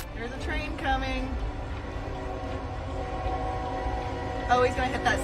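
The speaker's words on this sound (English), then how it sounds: "There's a train coming." A train approaches a road crossing where a truck sits, its rumbling wheels and a blaring horn rising in the background while people talk.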